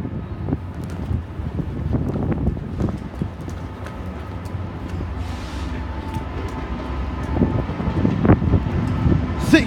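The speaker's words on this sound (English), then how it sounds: "we have another freight train" A freight train passes close by, its rolling wheels rumbling and clattering in a steady rhythm that swells slightly toward the end, with talking mixed in.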